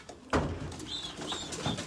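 Racing pigeon at a race loft, cooing softly in short low bursts with a couple of faint higher calls, close by over light background rustle and a thump.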